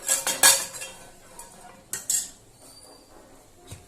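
A metal pan is set down on a gas stove with a few sharp clanks and clinks, the loudest near the start and another pair a moment later, then a faint rattle, close by and with no voices.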